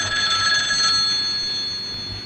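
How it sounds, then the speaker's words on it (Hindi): A telephone rings continuously in an indoor movie scene, a steady electronic bell tone holding throughout at fairly loud level with no voices over it. "टेलीफोन।"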